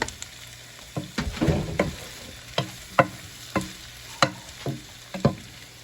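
Chopped tomatoes and celery leaves for a meatloaf soup are pushed around a pot, giving a series of sharp clacking utensil knocks about once a second over a soft background sizzle.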